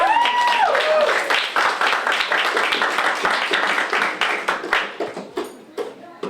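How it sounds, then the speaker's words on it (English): An audience at a poetry reading during The People's Poetry Night 2024 bursts into dense applause that fades steadily over several seconds into scattered claps. "Round of applause, please."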